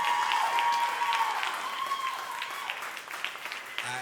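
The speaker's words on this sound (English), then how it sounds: "Let's hear it for them. Big round of applause." A crowd applauds young School of Rock performers after a seasonal show, with dense, sustained clapping and a few faint whistles, fading slightly toward the end.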